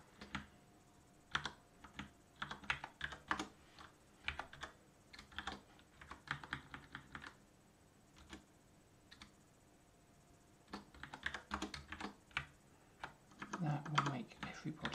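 Keystrokes on a computer keyboard come in irregular, quiet bursts of rapid clicks separated by short pauses, with a denser flurry of typing near the end.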